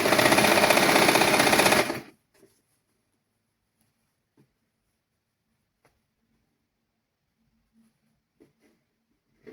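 A sewing machine runs at speed for about two seconds, stitching a seam on a boys' garment, then stops, followed by faint scattered clicks in near silence.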